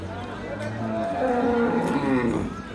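Cattle at a livestock sale yard low and moo in drawn-out calls, one long moo swelling across most of the moment, close and clear, with faint background activity.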